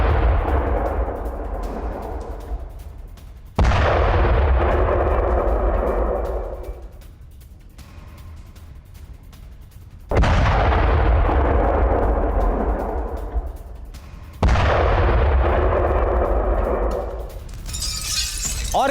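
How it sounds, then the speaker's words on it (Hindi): Heavy blasts from a strike on a mosque in south Lebanon boom out in a series of four loud, broadband explosions, each a sudden crack followed by a long rumbling decay, with debris clatter trailing off between them. "लेबनान में मस्जिद पर हमले का वीडियो। भारी विस्फोट के बाद मस्जिद को उड़ाने का दावा"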